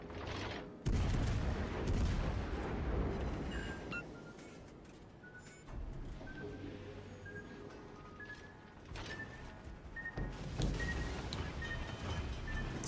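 Warship guns firing HE shells in the naval game World of Warships Legends: heavy booming salvos erupt at intervals, each followed by rumbling decay, with faint game chatter in the background.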